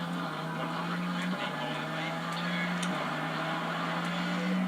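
A rally car engine drones at a steady pitch with faint clattering in the WRC II Extreme video game, heard at moderate level without any voices.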